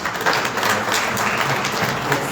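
Audience at a biomedical engineering conference in Marrakech applauding, dense continuous clapping filling the room, loud and steady throughout.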